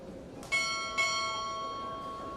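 Two strikes of a ship's bell ring out close together during a Navy chief petty officer pinning ceremony, each a clear metallic clang whose tone lingers and decays over a quiet hall.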